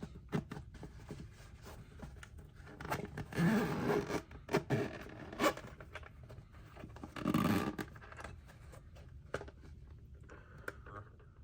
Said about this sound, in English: So go ahead and unzip it.